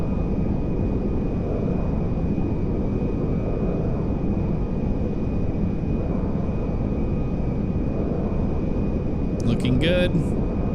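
A space shuttle comes in to land in Grand Theft Auto, its steady low engine and wind roar running continuously under a man's brief spoken remark, with a short electronic chirp near the end.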